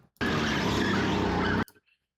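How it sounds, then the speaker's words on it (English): Kart engine braking while cornering on a track, a loud sustained buzzing engine roar that starts abruptly, holds steady for well over a second, then cuts off, close and without talk. "that's all engine braking as I'm going around the corner"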